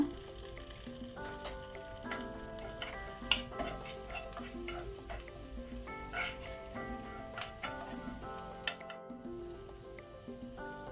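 Kashmiri chilli powder and coriander leaves sizzle in butter in a pan on low flame, a steady quiet hiss under light clicks of stirring, with a faint dog barking in the distance.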